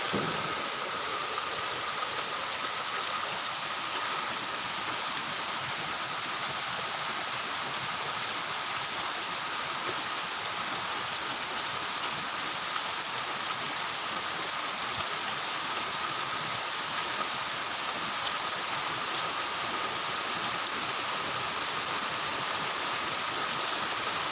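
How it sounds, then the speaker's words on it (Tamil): Steady, dense hiss of heavy rain pouring continuously, with no voices and no breaks. "இன்று காலை சிதம்பரம் பகுதியில் சீரான மழை பெய்து"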